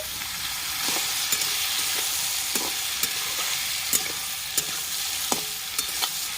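Chunks of pumpkin and bitter gourd sizzle and fry in a pan for a Bangladeshi dish, with a constant hiss broken by regular clicks and scrapes of a spatula stirring them.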